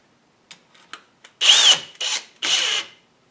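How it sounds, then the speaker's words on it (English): A tool post drill mounted on a metal lathe makes a few faint clicks, then runs in three loud whining bursts of drilling, each about half a second long with short gaps between. "It's a tool post drill."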